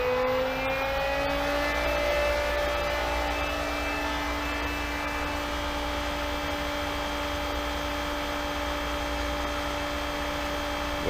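A variable speed pool pump running at high speed, 3,450 RPM, giving a loud, steady motor hum and whine with a sustained tone that rises slightly at first and then holds constant, close and uninterrupted.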